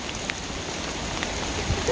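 Rain falling outdoors in a jungle area during mushroom foraging in French Guiana, a steady soft patter with scattered droplet ticks, no talk.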